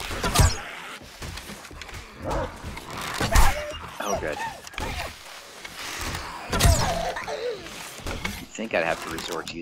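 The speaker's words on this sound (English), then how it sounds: "Oh, a dog." A dog barks in the survival video game 7 Days to Die, mixed with in-game thumps and impacts while someone talks loudly over most of it.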